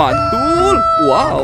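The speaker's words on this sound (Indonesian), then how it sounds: "ini ada ayam berkokok" A rooster crow rises and falls in loud, close, warbling calls, likely a toy or recording, while a person speaks briefly over it.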